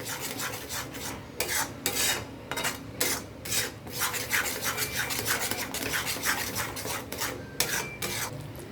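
Steady scraping and rubbing of a utensil against a pan as sour yogurt is stirred into a spice paste for a Bengali fish curry, close and continuous with rhythmic strokes.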